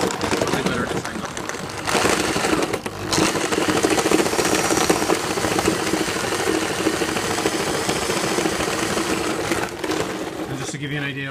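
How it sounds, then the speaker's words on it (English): A motorized drill runs continuously with a loud, buzzing whir and grinding clatter as it chops apples for homemade cider, briefly dipping before resuming. "the drill is running, chopping up the apples"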